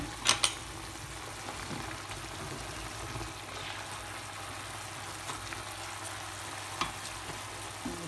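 Food frying in a pan at a home birthday cooking session in Germany, a steady low sizzle running throughout with a couple of sharp clatters near the start and a light knock later, no talking.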